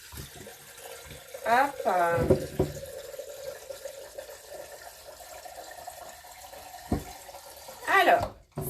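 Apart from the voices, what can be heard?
pouring water into a Thermomix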